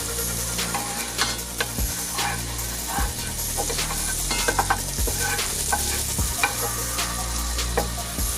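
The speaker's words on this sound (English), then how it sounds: "Then we're going to add in a little garlic. I'll go ahead and stir that in." Garlic sizzling and frying in a pan while a utensil stirs it, steady close crackle and hiss with irregular scraping and clinking strokes against the pan throughout, no talk.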